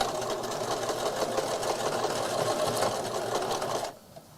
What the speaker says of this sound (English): It's too thick to go through the sewing machine, though.